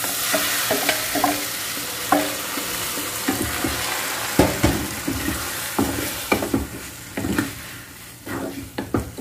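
Pasta noodles stirred and fried in a pan for a garlic pasta dish give a lively sizzle with repeated scraping and clacking strokes in an irregular rhythm, close and fairly loud, with no voices.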